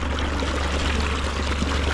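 Cold floodwater pours steadily through a plugged farm pipe on a flooded Ohio farm, a continuous close, full rushing gush with no pause across the whole stretch.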